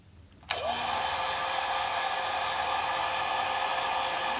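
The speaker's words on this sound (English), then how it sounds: "And here we have a heat gun." A heat gun powered from an EcoFlow RIVER Pro portable power station switches on with a sharp click, then settles into a steady, loud, continuous fan-and-heater whoosh close by, with no talking.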